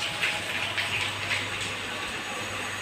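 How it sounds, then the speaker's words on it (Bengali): Rain falls steadily in an even wash of hiss, faint and continuous with no talk. "করে বৃষ্টি এসছে, আমিও ভিজে গেছি"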